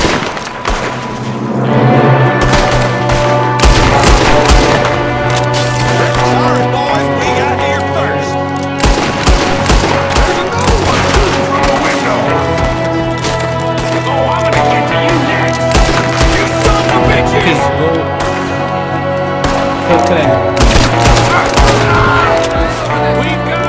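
Gunfire in Red Dead Redemption 2, with rapid, sharp shots in dense clusters over a loud game soundtrack throughout, and people talking over the action.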